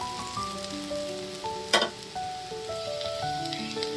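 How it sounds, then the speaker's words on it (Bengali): Potatoes frying in a pan send up a soft, continuous hiss and crackle, mostly under background music, with one sharp scrape or clatter partway through. "আর একটু কিছুক্ষণ ভাজা করে আমি আলুটাও নামিয়ে নেব"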